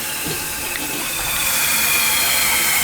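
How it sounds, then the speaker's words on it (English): A toilet with a new blue flapper flushes and then refills, a steady rushing of water through the tank and bowl heard close up and alone. "It should flush and fill good, which it's doing. It's flushing."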